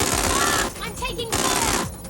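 Rapid automatic gunfire rattles loudly in the Watch Dogs Legion video game, bursts breaking off briefly mid-way then resuming, with voices mixed in.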